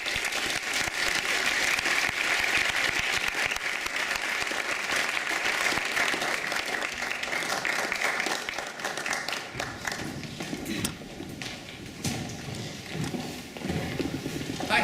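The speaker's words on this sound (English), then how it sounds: "please join me in a round of applause while we welcome all three of them to the stage right now" A large audience applauds steadily, welcoming three speakers to the stage; dense, loud clapping runs throughout and thins somewhat toward the end.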